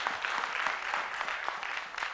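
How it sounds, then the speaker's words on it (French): Audience at a French-language talk show claps for a young woman, a quieter round of applause with individual claps pulsing in a loose rhythm across the short stretch. "Allez-y, mademoiselle, on va l'applaudir."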